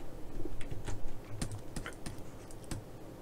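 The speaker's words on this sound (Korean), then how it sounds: "그 키보드에 쉼표를 눌러주셔도 꺼집니다." Several crisp clicks of computer keyboard keys being pressed, including the comma key, sound close by in a quiet room, landing at irregular intervals with no voices.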